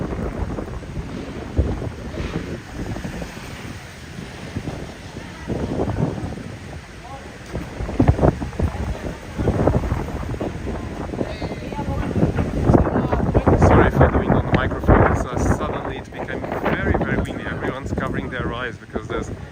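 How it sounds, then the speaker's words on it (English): Strong gusting wind on an evening street in Funchal, Madeira, buffets the microphone in rough, uneven surges while a person talks over the roar. "It's quite windy now."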